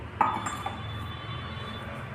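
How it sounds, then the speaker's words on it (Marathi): A metal frying pan for tempering, holding a spoonful of oil, is set down on a gas stove with one sharp clink near the start, followed by a faint, steady background hiss. "इकडे गॅसवर मी एक फोडणीसाठी पॅन ठेवलेला आहे"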